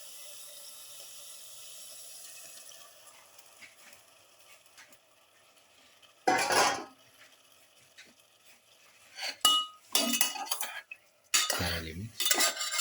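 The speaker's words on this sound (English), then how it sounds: "Thoroughly mix. Put in the Japanese quail" Japanese quail is mixed into a pepper spice mixture in a bowl, heard as sporadic close clinks and scrapes of a utensil against the dish between quiet stretches.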